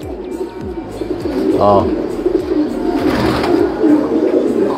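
A champion Japanese racing pigeon coos in short repeated bursts close by, with other birds and someone talking softly in the background of a loft.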